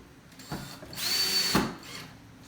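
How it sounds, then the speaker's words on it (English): A power drill driving screws into a DIY bench: a short whirring run of about half a second, a brief pause, then a few quick bursts, fairly close and moderately quiet with no talk. "I'm gonna use a drill"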